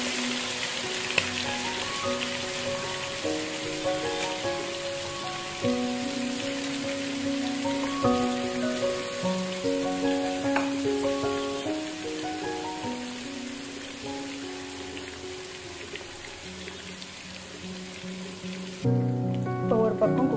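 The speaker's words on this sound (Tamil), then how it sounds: "இப்போ ஒவ்வொரு பீஸாக இதில் நம்ம வறுக்க சேர்த்துக்கலாம்" Chicken 65 pieces deep frying in hot oil with curry leaves, a continuous crackling sizzle running throughout under tonal background music, dropping off briefly near the end.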